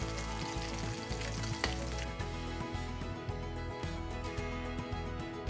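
Scottish salmon fillet frying in a hot pan, giving a steady, close crackling sizzle that holds at an even level throughout with no voices.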